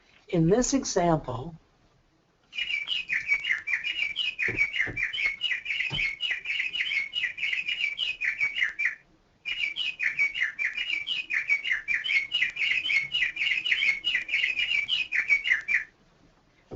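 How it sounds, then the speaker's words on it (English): Birds chirp and trill in rapid, continuous bursts behind a speaker's voice, the calls running loud and steady for long stretches with a brief pause midway. "sorry for the birds going off."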